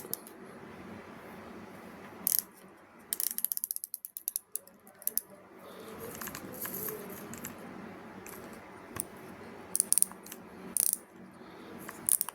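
A Deukio DC Plus baitcasting fishing reel gives off fine ratcheting clicks with scattered louder snaps and bursts, close and clear over quiet handling noise.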